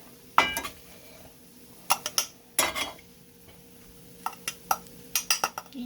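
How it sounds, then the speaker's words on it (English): A big spoon scrapes and scoops canned corned beef hash from a pan into camp mugs, making scattered metallic clinks and scrapes in irregular bursts against a quiet background. "I'm gonna use a big spoon. We're just gonna scoop that. Look, doesn't that look good? Scoop that into our cups."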